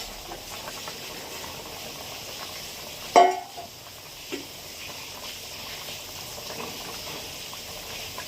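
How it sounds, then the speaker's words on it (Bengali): Fish curry broth with cauliflower boils in a pot, giving a soft, steady bubbling hiss with one sharp knock partway through. "ঝোল ঝোল ফুটে উঠেছে"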